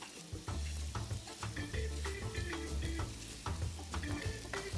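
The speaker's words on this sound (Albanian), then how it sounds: "Dhe karrotës dhe japim një të skuqë" Onion and carrot fry in a pan, a steady close sizzle broken by repeated scraping stirs in an uneven rhythm, with a low hum running underneath and no talking.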